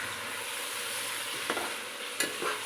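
Turmeric is stirred into food cooking in a pan, a steady close sizzle of frying with a few sharp scrapes and clinks of the spoon against the pan toward the end.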